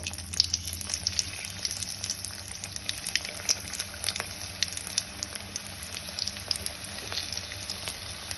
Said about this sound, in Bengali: এবার একটা কড়াইতে আমি নিয়ে নিয়েছি বেশ কিছুটা তেল। ওই তেলের মধ্যে দিয়ে এবার লাল লাল করে আমি এটা ভেজে নেব।